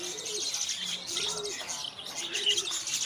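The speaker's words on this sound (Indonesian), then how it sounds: "ada anakan burung jalak uren." Javan pied starling chicks at a bird market, soft repeated chirps and calls over a noisy background, fairly faint.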